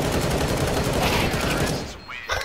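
Dense bursts of rapid gunfire in Counter-Strike sound loud and close before dropping off near the end, with voices mixed in.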